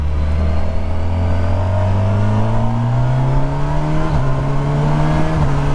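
Kawasaki motorcycle, a Versys 1100 SE or Ninja 500 SE, accelerating hard, its engine note climbing steadily in pitch over a loud continuous roar, with a brief dip near the end as it shifts gear.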